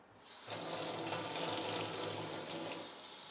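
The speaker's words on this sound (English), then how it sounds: "you're going to dump it in the sink and you're going to rinse it with cold water" Cold water runs steadily from a sink tap, splashing as dyed reed is rinsed beneath it, a continuous close hiss that starts abruptly and holds with no talk.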